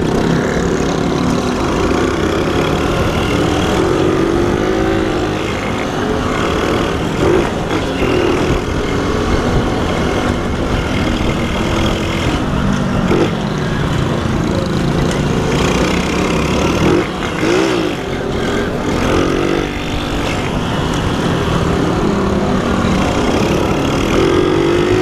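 A moped with a modified, unrestricted exhaust runs close by, giving a loud buzzing, sputtering drone for the whole stretch with small shifts in revs.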